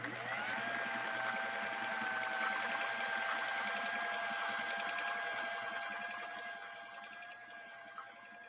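A 1960s Singer 503A sewing machine stitching, a close, steady mechanical whir with rapid rhythmic needle clatter that runs evenly and then slows and softens toward the end.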